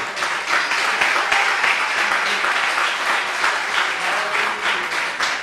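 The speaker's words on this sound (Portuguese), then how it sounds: "vamos aplaudir mesmo a palavra do Senhor" A church congregation applauds during a sermon, sustained loud clapping that fills the whole stretch with an even, dense texture.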